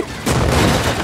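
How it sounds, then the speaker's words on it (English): A mortar mounted on a custom battle car in GTA 5 fires: a loud, close boom with a broad, ragged blast that rumbles on for most of a second. "I almost hit you with my mortar"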